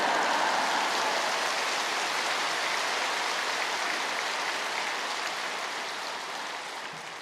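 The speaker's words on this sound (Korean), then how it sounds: "큰 박수로 목사님 맞이하시겠습니다" A large church congregation at Yoido Full Gospel Church claps loudly to welcome the pastor, a dense, steady wash of applause that fills the hall and slowly tapers off toward the end.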